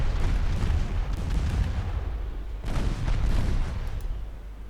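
Heavy booming explosions from torpedoes striking a ship in a naval warfare game set in a 1947 Norwegian campaign. Two rumbling detonations, one at the start and one midway, roll over a continuous low roar.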